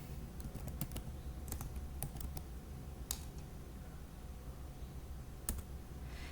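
Keys clatter on a computer keyboard as a command is typed, a quiet series of quick, irregular clicks in short bursts over a soft background hiss, no talking.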